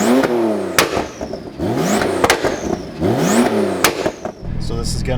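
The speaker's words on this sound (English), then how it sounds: "We've got the new exhaust, got the VRTuned, got the pops and bangs and the burbles" A tuned 800-horsepower Porsche engine with a new exhaust revs repeatedly in rising bursts, each followed by crackling exhaust pops, loud and close, with a voice briefly audible.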